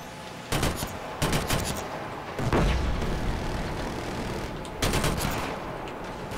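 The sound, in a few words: gunfire in the video game Killzone Shadow Fall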